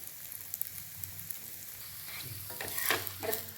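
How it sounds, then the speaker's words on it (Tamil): Snack shallow-frying in ghee, with crackling sizzle and occasional stirring and turning scrapes that grow louder toward the end; no voices. "இது மேலே நெய் ஊற்றணும் நல்லா ரெண்டு பக்கமும் நல்லா திருப்பி திருப்பி செவக்க எடுக்கணும்"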